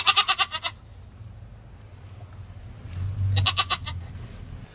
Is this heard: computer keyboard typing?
no